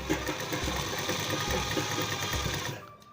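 A sewing machine runs steadily while stitching a midi dress, a continuous close whirring drone with a faint rhythmic pulse that stops just before the end, with no talking.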